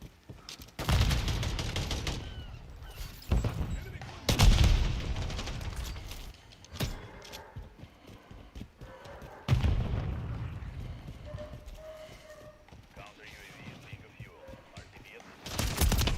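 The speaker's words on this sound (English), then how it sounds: "Taking effective fire." Gunfire in Call of Duty Modern Warfare III with the Lockwood 680 shotgun: several heavy, booming shots spaced seconds apart, each trailing into a rumbling decay, with game sound and a voice in between.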